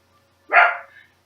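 A pet dog gives one loud, close bark in a quiet room, with a fading tail and nothing else around it.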